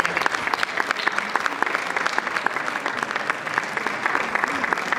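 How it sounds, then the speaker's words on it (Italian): Steady, dense applause from a concert audience for the music teachers of a civic music school, continuous and fairly near throughout. "Quindi un applauso"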